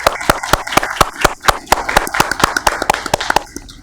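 Attendees at a commission meeting clap in a small group, a brisk run of sharp, closely spaced claps at close range, steady and fairly loud throughout.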